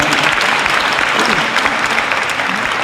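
Loud, dense applause from an audience at a live mimicry stage show, a continuous roar of clapping hands that stays steady throughout, with faint crowd voices mixed in.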